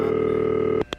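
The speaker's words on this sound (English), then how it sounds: "It's over when the phone stops ringing." A telephone rings with a steady, sustained electronic tone held for most of a second, then cuts off abruptly, followed by two brief bursts of sound close by.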